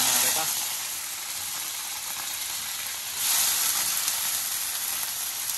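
Pork pieces sizzle and fry in a pot as the base for pork kaldereta, a steady loud hiss throughout that swells slightly louder partway through, with faint speech in the background.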